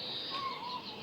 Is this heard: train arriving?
no